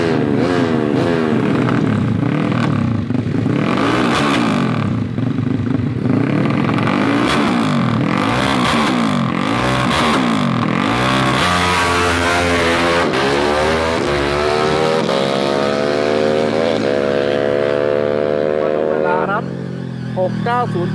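A car engine runs steadily while driving, rising and falling through revs with gear-like pitch sweeps, loud and close throughout, with someone talking over it.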